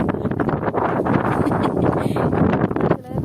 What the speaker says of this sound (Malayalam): തണുത്ത കാറ്റോട് നിൽക്കാൻ വയ്യ. പൂളിക്ക് ഇറങ്ങാൻ വന്നതാ, കണ്ടില്ലേ കാറ്റ്.